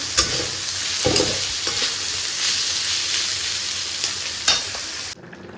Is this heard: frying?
yes